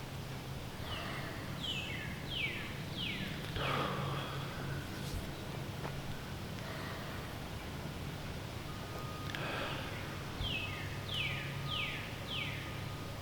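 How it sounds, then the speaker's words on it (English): Birds singing outdoors on a sunny, breezy day: two bursts of quick descending chirps, one early and one later, faint and somewhat distant over a soft background hum and rustle. "Listen to those birds."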